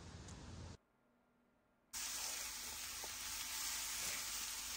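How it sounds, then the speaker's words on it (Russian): Mushrooms sizzle and fry loudly in a pan, a dense steady hiss that cuts out briefly, then returns at full strength and continues close by without any talk. "они грибы жарят"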